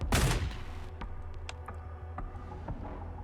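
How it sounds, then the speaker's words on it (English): A single loud gunshot in the Goddess of Victory Nikke video game bursts out at the start, followed by faint scattered clicks and ticks over a low background hum. "A gunshot rings out, causing the crowd to disperse."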